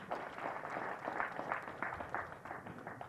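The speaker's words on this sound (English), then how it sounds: "Can you please clap for them?" Faint, distant applause from an audience at a National Defence College ceremony, a steady patter of many hands clapping for the assembled diplomats, lasting throughout.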